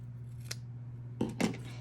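Scissors make two quick crisp snips cutting paper for handmade card crafting, heard close up over a low steady hum, with no talking.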